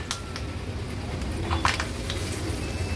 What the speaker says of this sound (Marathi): आता आपण कढीपत्ता तळून घेणार आहोत।